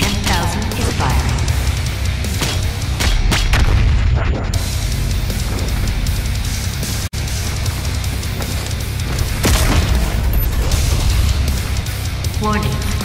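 The BFG 10,000 cannon firing in the shooter Doom Eternal: deep artillery-like booms and blasts over a loud, steady game background, with one sharp, sudden burst near the middle.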